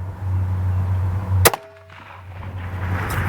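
A single sharp rifle gunshot fired through a muzzle brake at an outdoor range on a windy day, one loud crack followed by a brief ringing decay over steady background hum.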